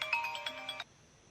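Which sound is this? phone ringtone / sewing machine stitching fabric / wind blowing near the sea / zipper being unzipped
phone ringtone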